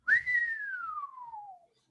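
A single human whistle imitated by voice in reaction to a high price, a short rising note that slides slowly downward for about a second and a half, clear and close with no other sound.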